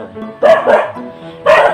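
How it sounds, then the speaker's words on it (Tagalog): Big dogs bark in short loud bursts, two quick barks close together, then a pause and another bark, with a faint voice in between. "Ang lalaki ng mga aso."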